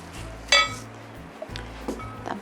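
Seasoned tofu and perilla leaves being mixed in a bowl, with a sharp clink of a utensil against the dish followed by softer taps and scrapes, close and fairly quiet.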